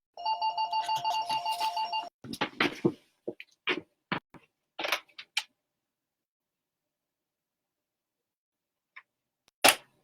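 A telephone ring sounds in quick repeated electronic pulses for about two seconds, followed by scattered clicks and taps and then near silence with a final sharp knock.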